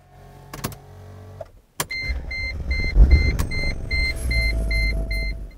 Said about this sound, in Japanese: それではエンジン始動させていきます。